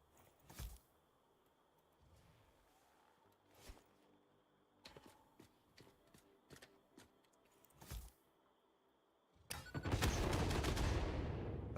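A big explosion goes off in a video game. A few scattered quieter bangs come first, then a loud, sustained roaring burst near the end.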